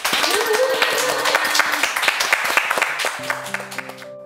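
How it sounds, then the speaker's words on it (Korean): An audience claps to welcome a lecturer at a talk event, brisk applause that tapers off as a few sustained musical tones enter near the end. "우리 이서원 소장님의 강의 박수로 듣겠습니다."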